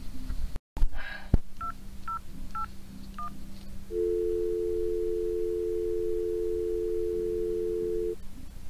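A telephone number is dialed on a handset, with a few short touch-tone beeps in quick succession after a button click, followed by a long steady ringing tone.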